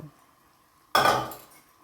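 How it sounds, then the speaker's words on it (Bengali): Boiled potatoes and fried capsicum being stirred into a pan of Bengali-style vegetarian ghugni, a sudden loud scraping, clattering burst that slowly fades over about a second. "দিয়ে একটু ভালোভাবে নাড়াচাড়া করে নেব"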